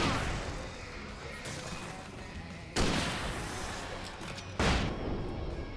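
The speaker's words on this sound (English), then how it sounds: "Didn't mean to throw the flashbang" A flashbang in Alan Wake goes off as a sharp blast, followed by two more loud impacts over a constant rumbling, noisy background, with no talk.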